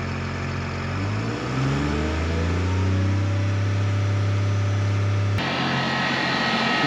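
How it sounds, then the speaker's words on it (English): Seed planter fan blowing seed from the hopper up the tubes in a field: a loud motor whine spins up and rises in pitch, then holds steady and droning before a sharp click and a lower hum. "It's basically running this fan here. Right here. And it's blowing the seed from the hopper up these tubes."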